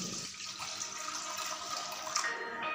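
A small amount of water is poured from close by into a kadai sitting on a gas stove, a steady trickling and splashing that runs for under three seconds with a brief bright clink near the end.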